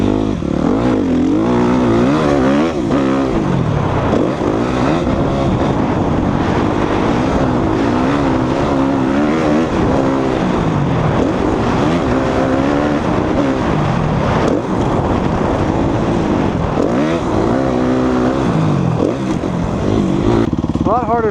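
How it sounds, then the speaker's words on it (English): A motocross bike rides around a dirt track, its engine a loud, constant buzzing roar that rises and falls with throttle and gear changes, close to the rider with wind noise throughout. "I think that was Matt's bike."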